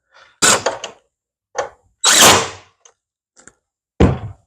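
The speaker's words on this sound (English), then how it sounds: "using a self-drilling screw here" A self-drilling screw driven through a metal bracket into the end of a fence post, heard as several short bursts of drilling and thunking with brief gaps, close and fairly loud.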